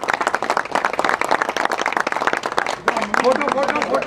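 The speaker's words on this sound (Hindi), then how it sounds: "भाई, तालियां।" Clapping from an audience at a cricket league awards event, rapid overlapping hand claps under continuous talking, with a voice rising near the end.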